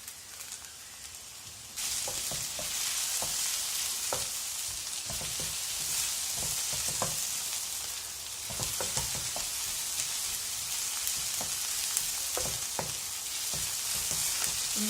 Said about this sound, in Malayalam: നമ്മുടെ ഓണിയൻസ് നന്നായിട്ട് സോട്ടായി വന്നിട്ടുണ്ട്